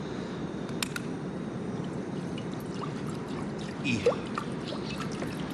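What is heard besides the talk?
pouring water into a pot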